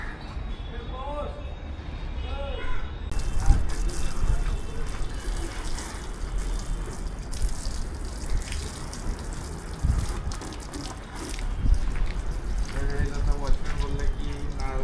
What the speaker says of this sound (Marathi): गाडी फटाफट धुतली 5 मिनिटात